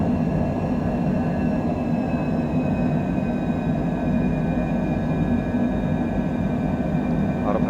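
Airliner engines at full takeoff power climbing out of San Diego, a loud, steady, unbroken roar with faint high whining tones running through it and no talk.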